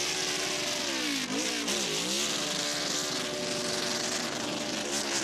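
A loud NASCAR Cup Series race car engine revs hard and steadily for several seconds during a burnout at Bristol, its pitch dipping and rising as the tyres spin, with no talk over it.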